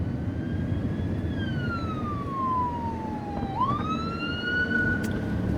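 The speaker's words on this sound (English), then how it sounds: "we got us an ambulance" An ambulance siren wails past, its pitch sweeping down as it goes by and then holding lower, over steady traffic rumble.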